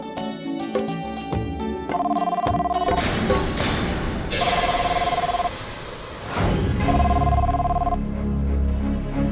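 A telephone bell rings in repeated bursts over background music in a TV drama scene, loud and close, with a whoosh partway through.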